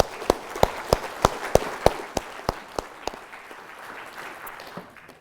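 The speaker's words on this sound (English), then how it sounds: "So big round of applause for Dr. Leah Ali." A conference audience at a digital-health event claps in welcome. Sharp, fairly sparse claps come first and settle into a softer, fading patter of applause over a few seconds, with faint murmuring underneath.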